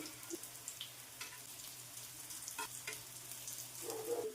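Sprouted ragi cutlets shallow fry in hot oil over a low flame, a faint, steady sizzle with small scattered pops and crackles throughout, no speech.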